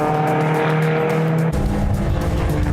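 Historic race cars roar around a track as a Shelby Daytona spins, a loud continuous engine drone with screeching tyres, then a sudden shift to heavier, rougher rumbling midway.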